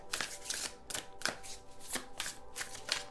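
Tarot cards are shuffled up close, with repeated crisp riffling bursts coming about every half second.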